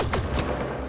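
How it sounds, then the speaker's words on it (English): A sniper rifle fires in Mass Effect Andromeda: a sharp, loud close blast with a quick follow-up crack and a short rumbling tail, all within about a second, with no talking. "That is a sniper."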